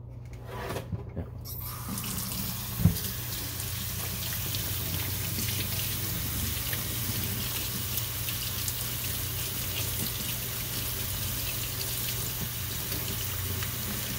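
Running tap water rinses a vacuum's filter screen in a sink, a steady even wash with a brief knock near the start.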